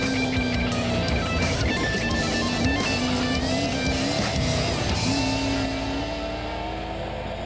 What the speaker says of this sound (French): Le voici en plein effort au volant de sa Chevrolet Camaro